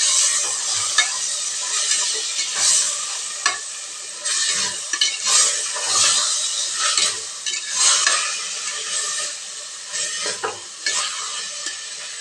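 Chicken sizzles loudly in a hot pan while a spatula scrapes and stirs it in uneven strokes, close up, with no talking, during chicken biryani preparation.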